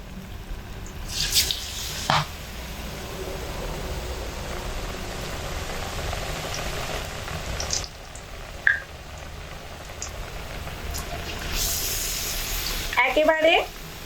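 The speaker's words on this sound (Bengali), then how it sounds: "একে একে সমস্ত পিসগুলোকে অল্প অল্প করে বেসনের মধ্যে দিয়ে ভেজে নেব।" Besan-battered sandwich pieces fry in a wok of hot oil, a soft, continuous sizzle with a few brief clinks and bursts of louder bubbling near the end.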